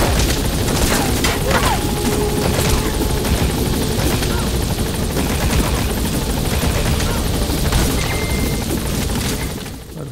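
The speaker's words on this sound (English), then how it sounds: "Let's go ahead and get on the chopper and leave the mission area." Helicopter lifting off in the Metal Gear Solid 5 video game, a loud continuous rotor roar with a few booming impacts mixed in, easing off at the end.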